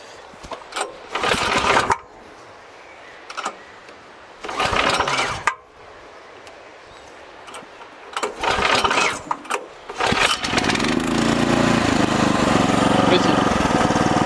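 A small engine on a tracked motorized wheelbarrow sputters in short bursts as it is started, then settles into a steady, loud running drone, close by, with someone speaking French between the tries.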